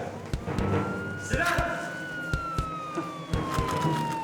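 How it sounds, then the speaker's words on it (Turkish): Police car sirens approaching, a rising and falling wail cutting through the scene amid thumps and scuffling, with people talking over it. "Duyuyor musun şef? Polis."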